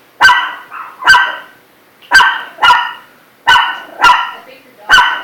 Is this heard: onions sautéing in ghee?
no